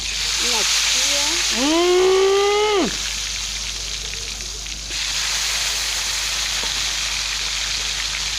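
Sweet potatoes frying in a pan give a steady, bright sizzle like light rain that runs the whole time. A voice rises and falls over it near the start.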